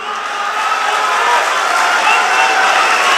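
A large crowd at a Dasara mushaira in Mysore gives loud, sustained applause mixed with cheering, filling the hall without any speech.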